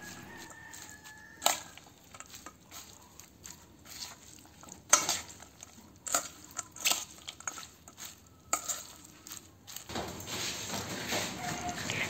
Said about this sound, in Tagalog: Haluin na natin ito ng mabuti.